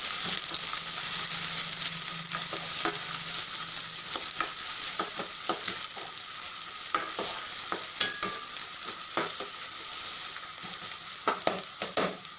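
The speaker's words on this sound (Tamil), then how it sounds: "வெங்காயத்தை வந்து ஒரு ரெண்டு நிமிஷம் நல்லா வதக்குறோம்" Onions sauté in a pan with a steady sizzle, while a spoon scrapes and stirs in frequent irregular strokes, close up.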